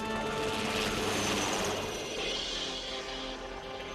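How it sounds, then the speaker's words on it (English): An Alouette III rescue helicopter drones steadily nearby in the Alps, its engine whine and rotor noise filling the air, swelling slightly before easing off. "The helicopter he flies is a French Alouette 3, specially suited for high-altitude rescue work."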